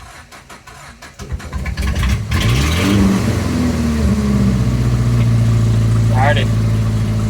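A newly assembled car engine cranks and catches, then settles into a loud steady idle with a brief rev, close by, while people talk over it.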